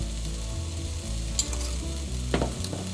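Onions frying in a pan with onion powder, steady close sizzle with occasional stirring scrapes and clinks, no one talking.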